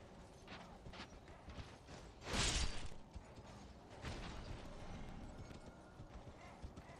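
Faint rhythmic horse hoofbeats in Elden Ring clop along at a steady pace, with a brief whooshing burst partway through and quiet game ambience behind.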